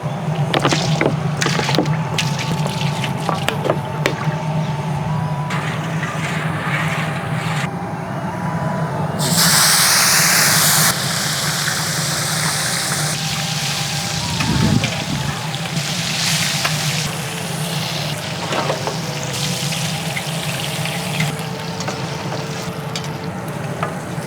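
Oil goes into a cooking pan for a taro (kochu) dish, followed by a continuous close sizzle and frying crackle with stirring scrapes and utensil clatter, plus a brief louder hissy burst midway.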